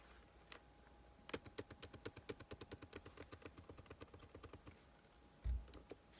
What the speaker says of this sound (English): let's go ahead and type something